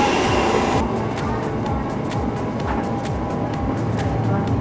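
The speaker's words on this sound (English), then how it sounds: "So the train has arrived." A train arrives at a station with a steady rumbling roar and rhythmic clattering from the rails, close and fairly loud throughout, with faint hiss over the top.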